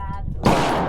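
Single sharp gunshot from a Beretta 92XI pistol at a shooting range, loud and close, cutting in abruptly after a moment of quiet background and ringing briefly.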